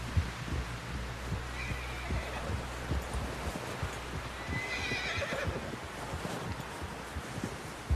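Horse in Red Dead Redemption 2 whinnying in brief bursts amid steady clip-clop hoofbeats and a low throbbing hum, fairly close and continuous throughout.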